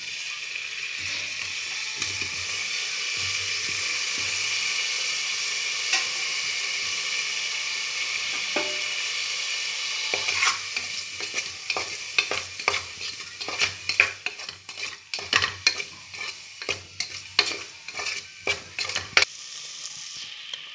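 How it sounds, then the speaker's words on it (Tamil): Paneer cubes fry in oil with garam masala and salt inside a pressure cooker, giving a steady sizzle with a spoon scraping and clacking against the metal in quick, repeated strokes toward the end. "இப்போ அந்த பன்னீர் அதில் சேர்த்து ஃப்ரை பண்ணிக்கலாம்."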